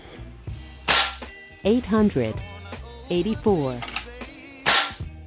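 An FX Wildcat Compact .22 caliber air rifle fires two sharp, loud, close cracks several seconds apart, with someone talking between the shots.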